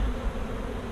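Honey bees buzz around a hive, a brief, low, steady hum with a slight waver, close and alone.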